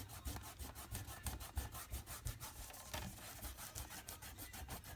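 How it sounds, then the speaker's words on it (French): An eraser rubbing pencil marks off paper gives quick, rhythmic scrubbing strokes, faint and close. "Je vais gommer mes marques."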